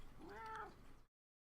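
A cat gives a single short meow, close and fairly quiet, which stops abruptly and leaves silence.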